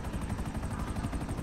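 Police helicopter in Grand Theft Auto V Online, a steady pulsing rotor drone with rhythmic low thumps, fairly loud and continuous, no talk.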